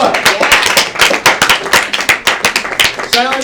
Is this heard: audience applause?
yes